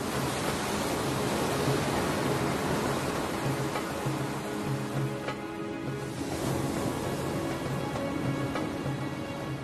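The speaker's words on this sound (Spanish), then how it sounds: "Tras el monzón, las olas llegan sin fuerza." Gentle surf along the Sri Lanka coast after the monsoon, a steady broadband wash of small waves with no distinct breaks, constant and close throughout.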